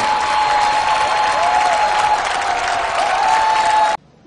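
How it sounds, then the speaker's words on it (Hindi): A studio audience at a dance competition show gives loud, sustained applause to welcome a contestant, a thick, even roar of clapping with a faint tone running through it, then cutting off abruptly near the end. "चांदनी जोरदार ताली से स्वागत करी"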